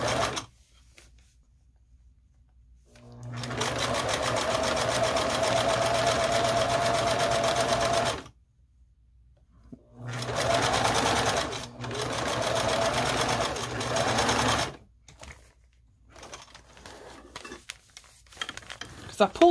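A sewing machine stitches a string quilt in two long steady runs of fast, even whirring, separated by pauses, with a quieter stretch of handling noise at the end.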